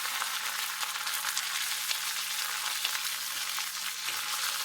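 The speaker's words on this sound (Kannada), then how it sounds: "ಬೇವು ಸೊಪ್ಪನ್ನು ಹಾಕಿಕೊಳ್ಳೋಣ. ಹಾಗೂ ಒಣಮೆಣಸಿನಕಾಯಿ ಕಟ್ ಮಾಡಿದಂತೆ." Mustard seeds, curry leaves and cut dry red chillies sizzle and crackle steadily in hot oil in a home kitchen, with a dense, continuous hiss and occasional pops close by, no voices.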